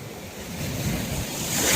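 Strong ocean waves at Akumal, Mexico surge and wash loudly, with heavy wind buffeting the microphone, the roar building toward the end.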